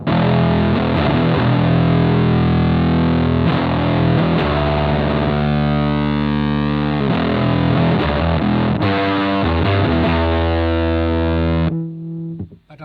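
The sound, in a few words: Ibanez FZ7 fuzz pedal distortion on bass guitar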